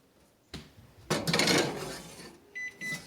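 Two baking trays of bread dough slid into an oven, with a couple of metallic clunks and scrapes of the pans on the rack followed by a few short beeps.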